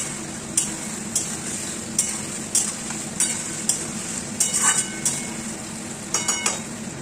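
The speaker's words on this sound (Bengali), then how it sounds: "এরপর আমি দেবো এর মধ্যে ছোট ছোট করে কুচিয়ে রাখা পেঁয়াজগুলো একটু দিয়ে ভেজে নেবো সামান্য" Finely chopped onions frying over a high flame in a pan with whole spices, a steady hiss and sizzle broken by regular scrapes and clinks of a spoon stirring against the metal, close and alone without any voices.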